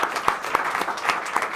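An audience at a song swap music event applauds a performer, steady clapping from a small crowd with a few sharper claps standing out, filling the room without any talking.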